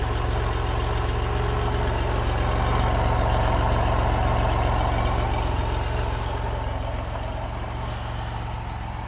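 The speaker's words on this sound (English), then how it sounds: "You just gotta love the cold starts on these old GM cars." A 1987 Oldsmobile Toronado's engine idling shortly after a cold start, a steady, close, low droning hum with a smooth even rhythm that continues unbroken, with no talk over it.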